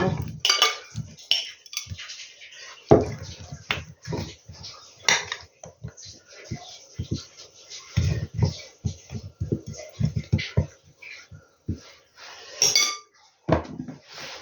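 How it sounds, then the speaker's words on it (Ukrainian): Potatoes tumble into a baking dish for oven-baked fish with vegetables, making a series of irregular clinks, knocks and rattles against the dish. Quiet pauses fall between the bursts, and some handling noise is close to the mic. "Картоплю висипаю сюди на форму."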